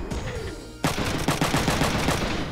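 Rapid bursts of gunfire in the PlayStation game Front Mission 3 crackle in a dense, rhythmic volley after a brief quieter start, loud and close.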